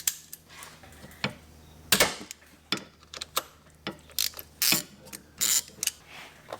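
A ratchet with a hex bit loosens a fill plug on a high-mileage C5 Corvette Z06, giving bursts of close, sharp clicking and ticking in uneven spurts.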